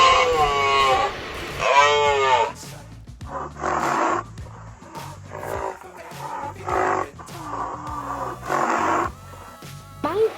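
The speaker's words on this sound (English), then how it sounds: "rhinoceros" A rhinoceros roars and grunts in several repeated rough calls over a steady low backing beat, loud and close throughout.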